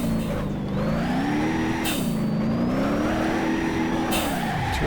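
Turbocharged engine in the BeamNG driving game revving steadily, a droning tone that rises and falls in pitch, with brief hissy bursts like turbo blow-off or air release, loud and continuous throughout.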